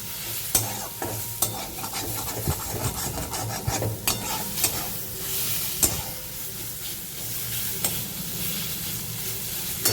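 Moringa leaves frying in a wok are stirred steadily, a continuous close sizzle broken by repeated scraping knocks of the spatula against the pan, with no talking.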